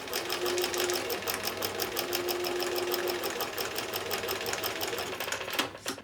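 A domestic sewing machine stitches mini mosaic quilt seams, a rapid even chatter of needle strokes running steadily and close for several seconds before a brief change near the end.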